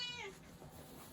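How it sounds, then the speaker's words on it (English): An indoor cat gives a single short, fairly faint meow that rises and falls, heard alone in a quiet room. "You'll have to excuse the cat; she's quite noisy."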